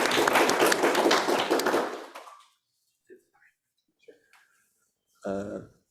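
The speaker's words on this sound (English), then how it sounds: "let's give him a round of applause so he can hear now" Audience applause for a workshop speaker at a multi-target tracking benchmark event fills the first two seconds, loud and dense, then fades into near silence with faint rustles before a voice begins speaking.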